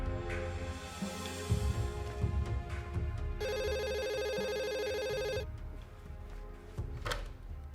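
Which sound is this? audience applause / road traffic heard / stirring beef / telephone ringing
telephone ringing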